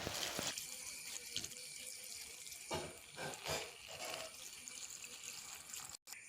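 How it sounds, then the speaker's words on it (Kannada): Chopped taro leaves being rinsed in a vessel of water, a steady splashing, running wash close by and alone, with a few louder sloshes midway and a brief cut near the end. "ಅದಕ್ಕೆ ಸ್ವಲ್ಪ ನೀರು ಹಾಕಿ ಚೆನ್ನಾಗಿ ತೊಳೆದಿಟ್ಕೊಳ್ಳಿ ಸೊಪ್ಪನ್ನು."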